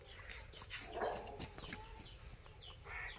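A fast rooster of a prized fighting breed on a farm clucks a few times, fairly close, over steady outdoor background noise.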